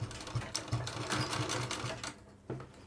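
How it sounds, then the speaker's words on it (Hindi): A sewing machine runs a short burst of stitching along the edge of a deep-neck ladies' suit, with a close, rapid rhythmic clatter that slows and stops near the end. "यह लगा रहा हूँ मैं किनारे की सिलाई"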